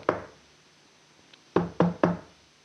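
Knocking on a wooden plank: one solid knock, a pause, then three quick hollow knocks in a row, close and distinct against near silence.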